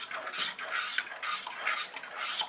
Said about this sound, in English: we're gonna let our milk and this flour mixture heat up while I'm stirring it around